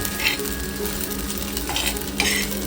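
Soybeans frying on a hot tava while being stirred constantly, a loud close sizzle with repeated scraping sweeps of the spatula across the pan.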